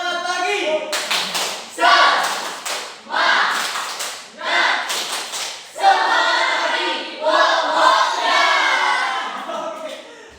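Classroom of students doing rhythmic 'tepuk semangat' spirit clapping, bursts of sharp group claps in patterned sequences with short pauses between rounds, loud and close.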